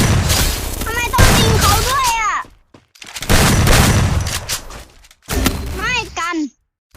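Video game gunfire with booming shots in several bursts, heard under excited talk in Thai as players shout over team play against enemies.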